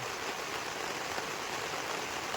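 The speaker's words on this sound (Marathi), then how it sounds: "आणि आज तर पाऊस चालू झाला बाबा हा" Monsoon rain pours down in a steady, dense hiss with no breaks, filling the space evenly and without any voices.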